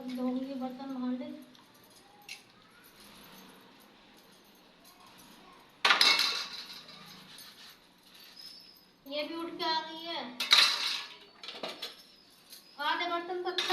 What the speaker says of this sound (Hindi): अब धोऊंगी बर्तन भांडे।